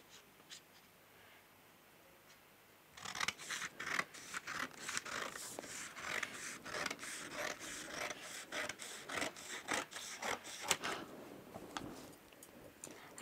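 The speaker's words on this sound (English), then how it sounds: "Then start cutting the side seam line" Scissors cutting fabric along a side seam line in a sewing pattern lesson, a close, steady series of crisp snipping strokes that starts abruptly after a quiet moment and continues to the end.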